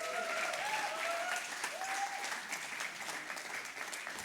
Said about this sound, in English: Let's give a big round of applause to all our founders.